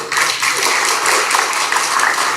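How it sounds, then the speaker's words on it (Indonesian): Dense, steady applause from an audience for a committee chairman at a gathering with Papuan students, loud and sustained throughout. "beliau tepuk tangan untuk beliau"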